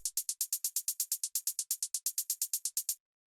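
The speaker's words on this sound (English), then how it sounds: "Next thing that we have here is this little tambourine and this hi-hat" A fast, even run of bright metallic taps, like a hi-hat with tambourine jingle, about two dozen strokes, then silence at the end.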